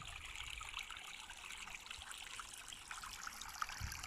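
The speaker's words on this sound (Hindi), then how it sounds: "इनको यहाँ से फ्रेश चश्मे का पानी दिया जा रहा है।" Fresh spring water trickling into a small pond of colourful fish in the outer cloister of a church in Germany, a steady soft babble with no talk.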